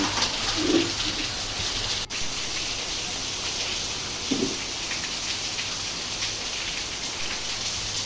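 Steady, dense rain pours down continuously, a broad hissing wash with a couple of brief louder splashes.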